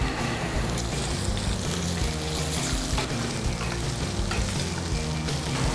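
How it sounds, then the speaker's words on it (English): Garlic, onion and carrots frying and sautéing in a hot pan for vegetarian spring rolls, a steady loud sizzle with occasional stirring scrapes throughout, no talking. "we're gonna start off just by frying and sauteing all of our vegetables here"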